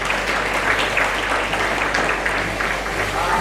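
An audience at a chess and arts event in Bengaluru applauds its esteemed guests with a dense, continuous patter of clapping that stays steady and moderately loud throughout.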